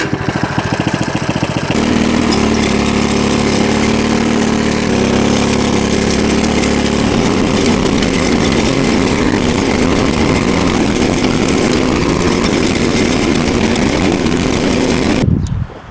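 A gas-powered tiller churns settled yard soil with a loud, steady engine drone that runs close and unbroken, then cuts off abruptly at the end.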